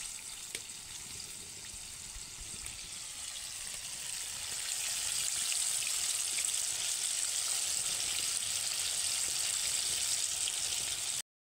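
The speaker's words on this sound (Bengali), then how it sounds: "একই রকমভাবে সবগুলো আমি একে একে দিয়ে ভালোভাবে ভেজে নেব।" Chicken pieces deep frying in oil in a wok, KFC-style: a steady, close sizzling hiss that grows louder partway through and continues without pause, with no voices.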